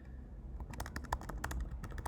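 Keys on a computer keyboard tapped in an irregular burst while a question is typed into a terminal, close and moderately quiet, with no voices.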